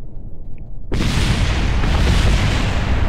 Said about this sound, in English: Oh, listen to all those explosions.